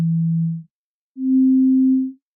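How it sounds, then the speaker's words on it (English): Two plain synthesizer tones played from a developer console, a low steady note cutting off, then a slightly higher one after a short silence, clean and electronic with no other sound. "if I open up a synthesizer and hit a note"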